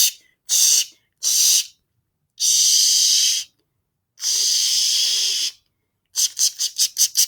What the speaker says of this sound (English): let's change these spray bottles and put some more healthier products in them